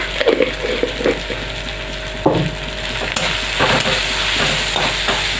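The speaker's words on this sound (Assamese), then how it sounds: "গোটেইখিনি বস্তু মই ধুনীয়াকৈ ভাজি ল'ম।" Spices with turmeric and salt fry in hot oil for a prawn curry, giving a steady close sizzle broken by scraping and stirring clatter.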